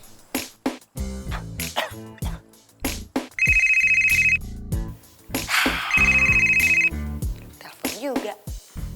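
A telephone ringtone sounds twice as steady, loud electronic tones, each about a second long, in a drama scene where people talk and make other noises around the rings.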